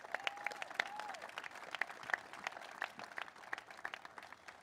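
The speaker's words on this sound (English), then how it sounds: "that deserves a round of applause as well" Scattered outdoor applause at the Golden 1 Center groundbreaking ceremony in Sacramento, a modest crowd clapping in loose, uneven bursts at a fairly quiet level.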